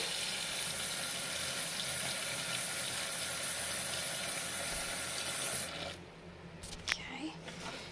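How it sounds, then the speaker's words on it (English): Cold water runs steadily from a tap into a sink, a loud continuous rush that cuts off near the end, followed by a few small splashes and clunks. "putting them in the sink and adding some cold water"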